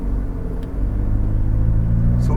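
A McLaren 570S on a race track gives off a steady, loud low engine drone that holds throughout with little change in pitch, with no clear voices.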